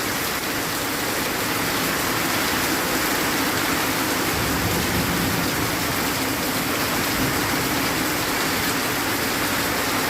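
Steady, loud rain pours down continuously, a dense even hiss of water falling on surfaces nearby.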